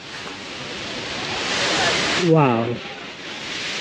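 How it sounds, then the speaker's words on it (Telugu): Heavy waterfalls at Hogenakkal in Tamil Nadu roar as a broad, loud, steady rush heard from near a hanging bridge, with a voice briefly exclaiming over it. "అటు సైడ్ నుంచి ఇటు సైడ్ రాగానే ఇక్కడ వాటర్ ఫాల్స్ కనిపిస్తుంది. ఇది కూడా చాలా హెవీ వాటర్ ఫాల్స్"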